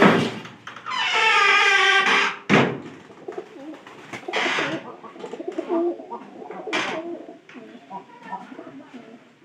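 Pigeons coo in bursts inside a loft, the calls rising and falling near the listener, mixed with rustling and a few sharp knocks, with a person talking quietly between them.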